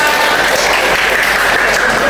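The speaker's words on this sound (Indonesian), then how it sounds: "beri dulu tepuk tangan untuk kalian semua" A classroom of pupils gives a short burst of dense applause, loud and close, with voices mixed into the clapping.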